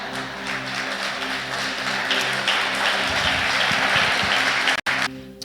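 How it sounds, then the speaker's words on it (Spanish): A church congregation applauds in a dense, steady wash of clapping that holds loud for several seconds, then cuts off abruptly near the end. "Los viejitos debieron aplaudir."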